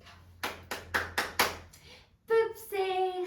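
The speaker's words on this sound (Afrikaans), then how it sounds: "Pip sê, klap jou hande." Five crisp, evenly spaced hand claps ring out close and clear, followed by a voice speaking and a short sung or tonal vocal phrase.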